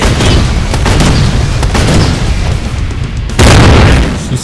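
Heavy booming weapon fire from the Rise of the Triad shooter game, a dense stream of loud, punchy blasts with a sharper burst near the end.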